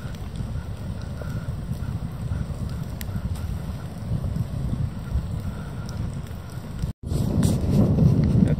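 Wind gusts across Tuulijärvi, a lake in the Vätsäri wilderness, buffeting the microphone in a constant loud, close roar with a low rumble. The roar drops out for a moment near the end, then comes back stronger.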